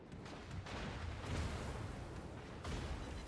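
USS Montana battleship firing a main gun salvo in the naval game World of Warships, a dense rolling boom that lasts the whole moment at moderate level, with no talking.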